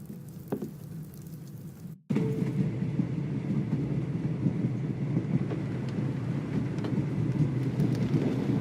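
Steady rumble of a train travelling through the night in the Sherlock Holmes The Awakened game, beginning quietly, then cutting briefly to silence before returning as a louder, continuous rolling drone.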